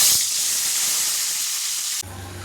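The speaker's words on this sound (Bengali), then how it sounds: "তাই আমি সর্ষে তেল দিয়ে করছি পনিরটাকে ভেজে" Paneer fries in plenty of mustard oil with a loud, steady sizzling hiss that shifts abruptly near the end, with no talking.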